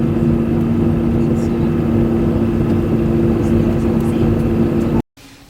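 Steady loud drone of an airliner cabin during the landing approach to Cairo, a constant low engine and air roar that holds throughout, then cuts off abruptly near the end.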